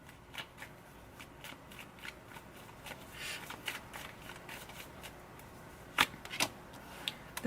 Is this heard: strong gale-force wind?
no